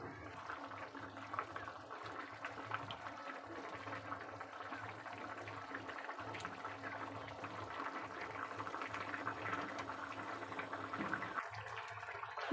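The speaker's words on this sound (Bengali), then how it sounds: "আর এটা একটু ফুটিয়ে নেব।" A pan of curry with shrimp, yard-long beans, potato, eggplant and green papaya bubbles steadily at a low, even simmer, a soft continuous boiling hiss with no talk over it.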